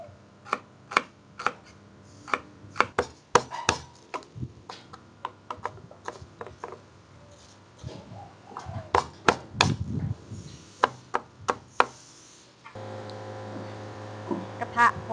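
A knife chops shallots on a cutting board in a home kitchen while fermented fish is prepared for frying: close, crisp strokes fall in irregular bursts, sometimes quick runs and sometimes single taps, with a voice talking intermittently.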